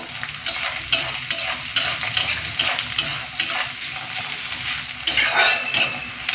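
Chopped onion hits hot oil and fries, a dense, continuous sizzle with light scraping and pan clatter, close up, growing louder near the end, no voices.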